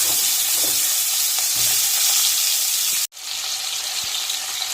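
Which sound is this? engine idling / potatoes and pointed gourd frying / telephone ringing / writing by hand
potatoes and pointed gourd frying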